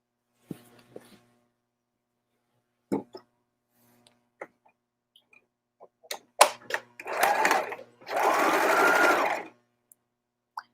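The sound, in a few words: sewing machine stitching a dart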